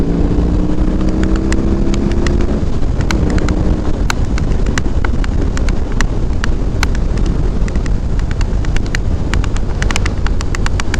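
BMW R18 motorcycle on a chilly first ride, its engine a steady low rumble under heavy wind roar, with a rising gear tone in the first seconds and scattered sharp clicks throughout.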